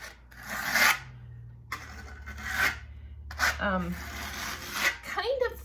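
A trowel scrapes and rasps lime plaster onto blue board in repeated strokes of about a second each, near and moderately loud, with a low hum underneath and brief speech between strokes.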